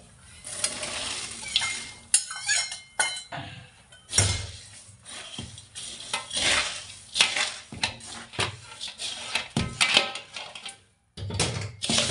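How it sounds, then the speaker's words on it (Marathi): Peanuts tumble into a pan while chivda is being made, with clattering rattles, scraping stirs and metallic knocks against the pan in irregular bursts, close and fairly loud, with brief pauses. "शेंगदाणे टाकून घेऊ आपण."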